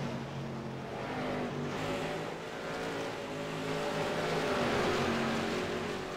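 Late model stock cars race around an oval in a 200-lap event, with a steady multi-engine roar and layered droning that rises and falls as cars circle, heard from the grandstand at a distance.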